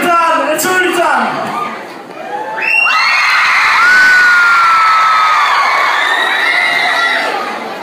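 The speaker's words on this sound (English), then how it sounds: "Let's have a round of applause at the same time." A crowd cheers, whoops and shouts loudly during a party game, with excited children's voices rising high over the steady noise throughout.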